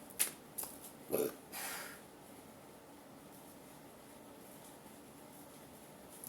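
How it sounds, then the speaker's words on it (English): A short burp near the start, followed by a couple of faint bursts, then quiet room hiss for the rest. "confirmation burp"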